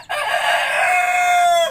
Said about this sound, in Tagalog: Si tandang ay tulaok ng tulaok.